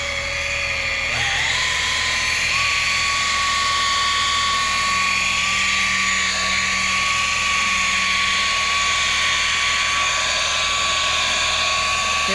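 A high-speed rotary polisher runs on car paint with a continuous loud whine close by, its pitch rising early on and then holding steady with slight wavering as it works the surface.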